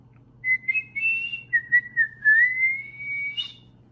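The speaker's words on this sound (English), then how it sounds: "Can you whistle?" A person whistles a short wavering melody, near and clear, alone over a faint low hum.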